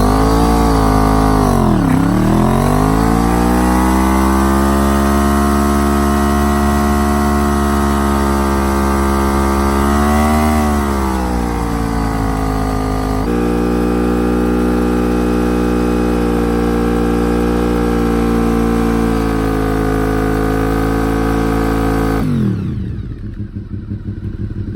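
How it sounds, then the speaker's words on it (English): A car engine revs hard and holds high during burnouts on a plugged tire, pitch sweeping up and down as the revs change, loud and close, then cutting out abruptly near the end. "time to do some burnouts and see what happens."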